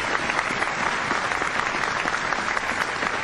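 An audience gives a steady round of applause for a paranormal group from North Wales at a live televised event, dense clapping holding evenly throughout.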